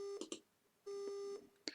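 Electronic phone tones from the Silent Hill: Play Novel video game as a line goes dead: two short beeps, then one long steady tone, then a final short blip, all thin and clean with nothing else behind.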